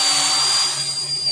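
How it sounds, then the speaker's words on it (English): A power drill with a 3/8-inch bit whirs steadily with a high, tense whine, loud and close, easing slightly partway through as it bites into material. "and just drill right there on the"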